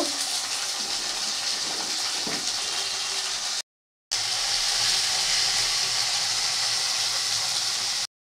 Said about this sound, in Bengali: তো একটু কপিটাও ভেজে নেব